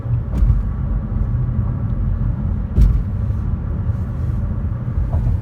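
Manhattan street traffic on a Sunday, cars passing on the road, heard as a steady low rumble with a couple of brief louder swells as vehicles go by, no voices.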